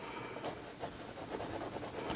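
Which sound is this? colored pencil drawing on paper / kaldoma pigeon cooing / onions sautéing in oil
colored pencil drawing on paper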